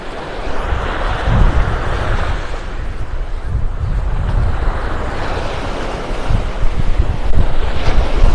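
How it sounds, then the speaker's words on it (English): Strong beach wind buffets the microphone in loud, gusty rumbles, with a broad roar like surf or open water behind it and no voices, in North Naples, Florida. "Oh, it's windy."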